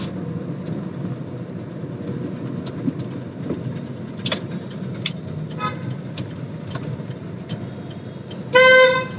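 A Volkswagen Polo's horn honks once near the end, loud and close, after several seconds of steady road and engine noise.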